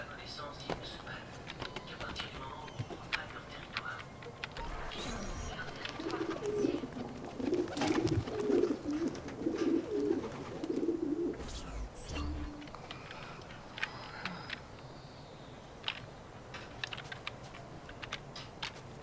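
Soft pigeon coos from the video game Assassin's Creed II repeat in the middle of the clip over a busy background of clicking and faint talk.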